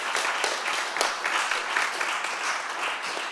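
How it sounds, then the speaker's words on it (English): Audience at an architecture keynote talk clapping in applause, a continuous, even wash of many hands at moderate loudness with a few sharper claps standing out. "a big applause to Arne"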